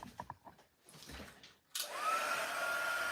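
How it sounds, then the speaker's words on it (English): A heat tool kicks on partway through after some quieter handling sounds and then blows a steady, loud whooshing hiss while drying wet paint. "So we're going to bring in our heat tool"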